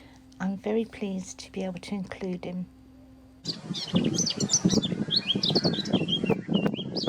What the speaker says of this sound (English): there's a blackcap bird singing away.